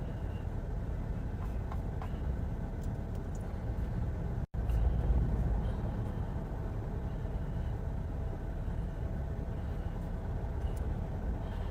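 A police patrol car reverses along a highway shoulder off Silver Lake Road, its engine a steady low rumble over road noise, with a brief cut partway through.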